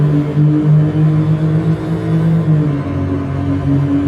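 A Porsche 911 in Euro Truck Simulator 2, with ProMods installed, revs hard. A loud, close engine and exhaust drone rises and falls through repeated throttle blips, with no one talking over it.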